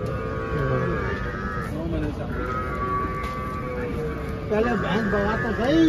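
Buffalo at a crowded livestock market, with lowing and bellowing calls rising now and then over steady crowd chatter and people talking nearby throughout.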